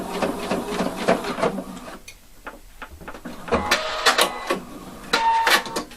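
Short bursts of a sewing machine stitch across the small corners of a fake double welt pocket, stopping and starting with brief pauses and fabric handling between runs.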